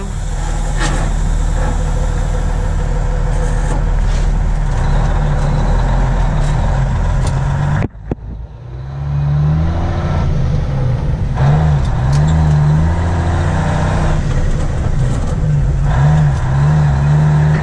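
A potato-hauling truck's engine runs with a loud, steady low drone, briefly cuts after a sharp clunk, then rumbles back up and revs as the truck pulls away, close and dominant throughout.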